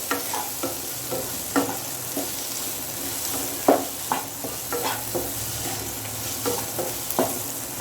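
Poha mixture with turmeric being stirred in a pan: a steady, close run of scraping and clinking spoon strokes over a soft sizzle, with an irregular rhythm and a few sharper knocks against the pan.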